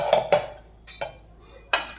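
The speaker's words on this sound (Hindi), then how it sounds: "कुकर ठंडा हो गया है अब हम इसको खोल के देख लेते हैं" Metal pressure cooker lid being unlatched and lifted after cooking chickpeas, giving a few sharp clanks and clinks spaced through a quiet kitchen.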